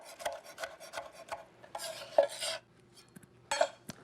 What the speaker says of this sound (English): I'm gonna slice these up